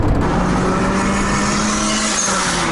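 A 1988 Honda CRX with a boosted B20b engine driving at speed, a steady, loud engine drone with a constant low hum and broadband road and wind noise throughout, no voices.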